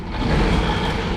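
Truck engine idling as it warms up on a freezing night, a steady low rumble close by with no talk over it.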